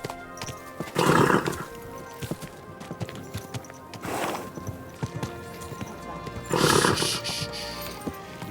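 A horse in the video game Kingdom Come: Deliverance II whinnies loudly three times, with hoof clip-clops and rustling movement in between, close and clear.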